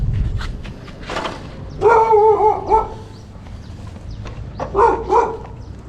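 Dog barking outdoors at a roadside stop on Koh Samui, Thailand, a few short barks and whimpers in two bursts, moderately near, over steady background noise with no talk.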